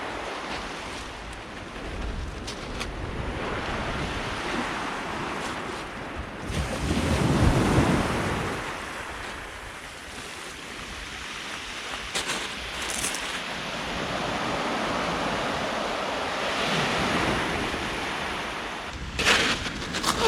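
Sea waves wash continuously onto a Jurassic Coast beach, a steady rushing surf with swells building and receding, mixed with heavy wind buffeting the microphone.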